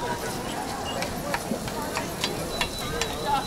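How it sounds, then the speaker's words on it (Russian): Zucchini with mushrooms and garlic frying at an outdoor Christmas market stall gives a steady close sizzle with light clicks and stirring, under a busy crowd murmur, while people talk nearby. "А вот здесь вот такое приготовление идет, смотрите, как он жарит."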